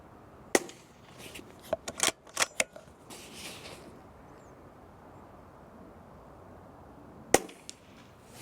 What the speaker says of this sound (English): 14 shots. That's a lot of shots out of the magazine.